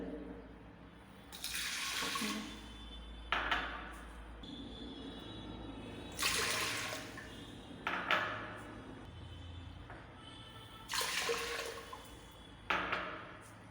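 Water is poured in several separate pours into washed raw rice while making sweet pongal, each a short splashing gush with quiet pauses between, close and fairly soft.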